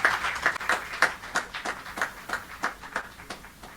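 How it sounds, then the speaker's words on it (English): An audience at a chartered accountants' event on audit quality claps for a speaker, a modest, fairly close patter of hands with distinct individual claps in an uneven rhythm. "A big round of applause for CA Pramod Jain"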